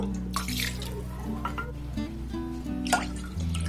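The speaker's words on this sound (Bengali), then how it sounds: "দেখুন এই আমি 3 বাটি দুধ দিয়ে দিলাম।" Three bowls of milk are poured into a warm pan while making gokul pitha, a close, continuous liquid pour with gurgling and splashing, heard alone without talk.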